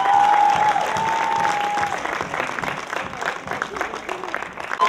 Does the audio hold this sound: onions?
no